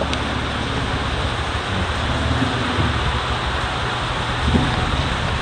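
Sudden heavy rain pours down at night, a dense, steady wash of broadband hiss that fills the whole stretch at high level with no letup.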